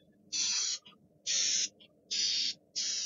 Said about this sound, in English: Let's go ahead and spray the unsanded sample for the last time.